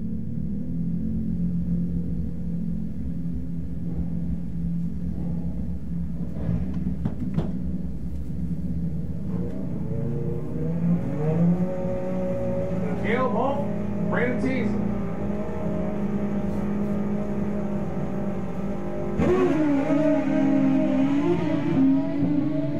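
Superstock drag racing motorcycles at Maryland International Raceway, engines idling and rumbling, then revving in rising bursts, loud and continuous with a track announcer talking over them.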